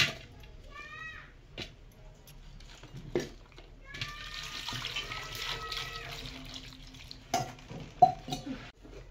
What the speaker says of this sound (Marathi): करूया आता आपण भेंड्या घेऊया आणि धुवून घ्यायच्या आहेत भेंड्या.